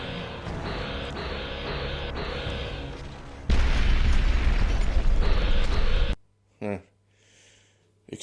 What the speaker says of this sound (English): Exploding card just for the effect